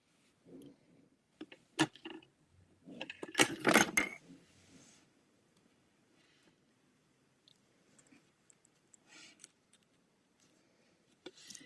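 Scissors snipping ribbon while making handmade bows, a few sharp close cuts and a brief burst of rustling handling noise, with quieter scattered snips and small clicks spread through the rest.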